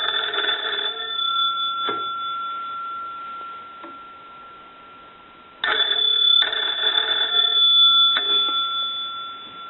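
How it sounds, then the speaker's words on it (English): A Kellogg wooden wall telephone bell rings in two long metallic bursts separated by a pause, loud and close, with no voices. "And then we'll go ahead and answer the telephone."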